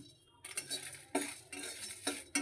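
Cinnamon and dried chilli dry-roasting in a pan, stirred with a metal spoon that scrapes and rattles in a few close bursts.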